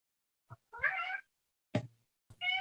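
A house cat meows a few times in short, close calls, one drawn-out meow followed by a brief chirp and another clipped meow, with silence in between.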